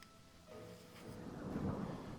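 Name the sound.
thunderstorm with rain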